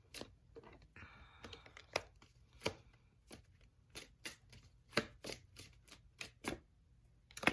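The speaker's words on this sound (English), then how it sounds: "I'm just going to pull a couple cards." Tarot cards are shuffled and pulled from the deck in a quick series of crisp, close riffling snaps and flicks, with brief papery rustles between them and no talking.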